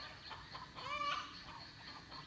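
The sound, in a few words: hens and roosters clucking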